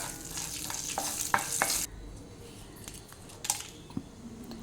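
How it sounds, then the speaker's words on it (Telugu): Mustard seeds, cumin, urad dal and chana dal tempering in hot oil, a bright crackling sizzle for nearly two seconds, then a quieter stretch with a few sharp pops and stirring clicks. "కొద్దిగా ఆయిల్ వేసుకుని ఆవాలు, జీలకర్ర, అలాగే మినపప్పు, పచ్చిశనగపప్పు కూడా వేసుకుంటున్నాను నేను."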